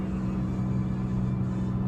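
A truck crossing South Dakota near the Missouri River rolls along with a steady, loud low engine and road rumble, heard from inside the bouncing cab without talk.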